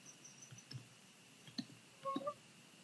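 A few soft, sparse keyboard clicks, Ctrl plus slash typed on a keyboard, faint and close, with a small cluster of taps near the end.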